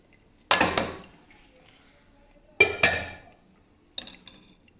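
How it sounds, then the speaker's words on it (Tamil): A pressure cooker lid being opened while cooking chickpeas for a dried-fish curry gives three sharp metallic clanks spaced a couple of seconds apart, each followed by a brief ringing decay, close by with no talk. "இப்போ குக்கரை ஓப்பன் பண்ணி பார்த்துடலாம்"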